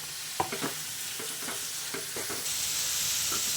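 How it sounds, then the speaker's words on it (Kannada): Spinach and mixed vegetables frying in oil in a pan while being made into pasta, giving a steady close sizzle that rises near the end, broken by several soft scraping stirs and no voices. "ಪಾಲಕ್ ಸೊಪ್ಪು ಸೇರಿಸ್ಕೊತಾ ಇದ್ದೀನಿ ಇದೆಲ್ಲ ಚೆನ್ನಾಗಿ ಆಯಿಲಲ್ಲಿ ಫ್ರೈ ಆಗಬೇಕು"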